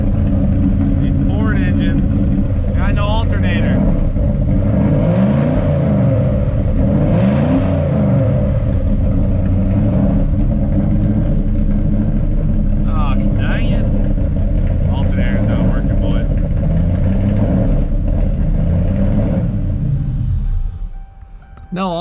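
Ford car engine idling and revving, a steady low rumble with rising and falling pitch sweeps, loud and close, with people talking over it before it cuts off near the end.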